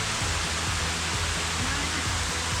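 A jungle waterfall at the Sticky Waterfalls near Chiang Mai pours in a dense, even rushing roar, loud and continuous with no break or voice.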